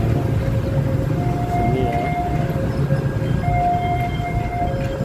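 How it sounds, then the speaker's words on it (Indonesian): An Indonesian CC 203 diesel locomotive train rumbles past close by beneath a bridge, heavy wheels clattering over the rails, with a sustained tonal whine rising above the din. "itu kereta apinya"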